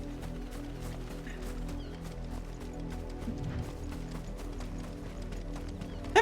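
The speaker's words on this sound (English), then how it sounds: "I'm getting chased by fucking horses" Horse hooves clip-clop at a gallop in Final Fantasy 16, a fast, steady rhythm of hoofbeats at moderate volume over a low game soundtrack.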